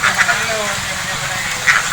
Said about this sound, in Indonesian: BUMG Peternakan Bebek Petelur Sejahtera, Kampung Kubu, Kecamatan Sawang,